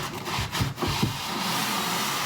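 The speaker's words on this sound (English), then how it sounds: "We are going to use a 120 grit sanding block." Rough scratchy rubbing of a 120-grit sanding block across a wooden end table, a few quick strokes followed by steadier continuous scraping, close up.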